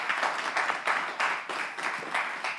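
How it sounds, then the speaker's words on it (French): Audience applause, a continuous patter of many hands clapping at moderate distance, swelling in rhythmic waves without a break and no voices above it. "Merci d'applaudir pour nous, s'il vous plaît."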